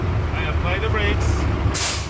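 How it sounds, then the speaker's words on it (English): Air brakes on a truck being applied during a brake and alignment test, a steady engine rumble under broad hissing that swells into a loud, bright burst of air near the end, with a voice talking faintly in the background. "I apply the brakes."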